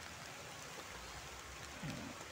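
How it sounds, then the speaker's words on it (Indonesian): Light rain patters in a soft, steady hiss, a faint continuous drizzle with no voices. "Tuh, makin deras nih hujan."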